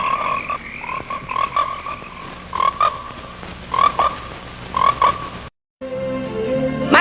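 Frogs croak in a film trailer, a series of loud rhythmic croaks in clustered bursts, close and alone with no voices, then a brief gap before a denser burst of croaking.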